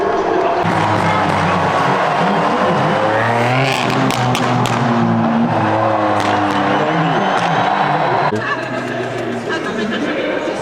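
Formula 2 race cars roaring past at the GP Explorer event, loud engines rising and falling with gear changes, under a cheering crowd and people talking nearby.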